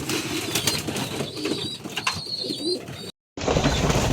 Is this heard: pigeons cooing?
yes